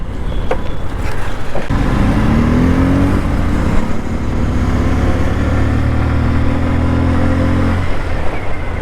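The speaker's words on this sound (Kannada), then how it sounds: "ಸೊ ಇದೊಂಥರ ಎಕ್ಸಾಸ್ಟ್ ಚೆನ್ನಾಗಿದೆ ಕೇಳೋಕ್ಕೆ" Exhaust of a 2022 Bajaj CT 125X motorcycle with a DTSI engine: a loud, steady, close engine drone that rises in pitch as it revs, then settles into an even hum, with no talking.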